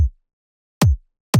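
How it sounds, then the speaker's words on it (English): Drum and bass kick drum shortened with a Shaper Box plugin, hitting twice in isolation: crisp attack into a tight low thump that cuts off quickly, a brief partial hit at the start. "So first I add the shaper box to make it short."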